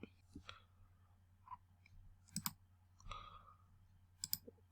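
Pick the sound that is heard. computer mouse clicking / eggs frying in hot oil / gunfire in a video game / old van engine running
computer mouse clicking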